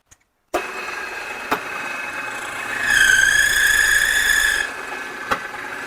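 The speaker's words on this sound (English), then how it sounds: "I'm going to use a milling machine for this." A milling machine takes a very light cut on the end of a brass drum hoop, a sharp metallic squeal rising for about two seconds over a steady machine hum, with a few clicks before and after.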